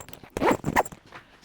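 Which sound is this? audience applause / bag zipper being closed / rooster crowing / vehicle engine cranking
bag zipper being closed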